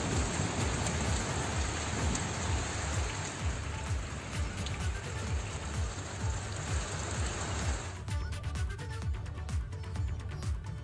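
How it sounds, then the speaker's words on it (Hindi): Heavy rain pours steadily in the hill towns of Mussoorie and Nainital, a dense continuous hiss of drops on surfaces that stays loud throughout, with a brief shift in texture near the end. "मसूरी और नैनीताल में भी बारिश हुई है।"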